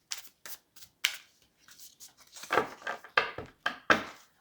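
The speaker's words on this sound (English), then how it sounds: "All decks get shuffled when I put them away." A deck of cards is shuffled alone in a quiet room, a series of crisp riffling bursts coming in irregular rhythm, growing denser and louder toward the end.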